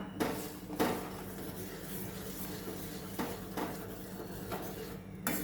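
Carrot chutney being stirred in a pan, a few scattered scrapes and clinks of the utensil against the pan at a quiet, close level over low background hum.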